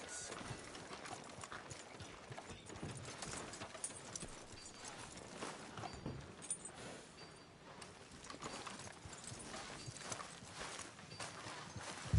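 Horse hooves clip-clop at a steady walking rhythm in a Red Dead western game street scene, close and continuous under game ambience and background chatter.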